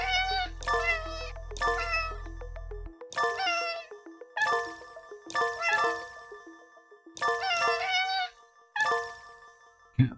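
Many cats meowing in New York, a rapid series of loud, close, high-pitched meows in overlapping bursts with short gaps, plus faint tinkling and a low hum at the start.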